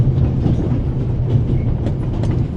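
Train carriage rolling along in the video game The Raven Remastered, a steady low rumble with faint rhythmic clatter, continuous and close, with no voices.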